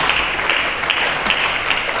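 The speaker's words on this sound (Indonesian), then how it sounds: "Mari kita berikan tepuk tangan bagi Yesus Kristus." A congregation applauds during a church worship service, a steady wash of many hands clapping together, sustained and even throughout.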